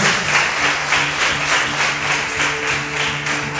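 A church congregation applauding in praise, steady, dense clapping from many hands that holds at an even level throughout, with a faint hum running beneath it.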